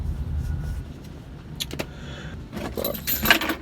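Car keys jangle in short metallic bursts close by, with a low vehicle rumble underneath and a brief clatter partway through.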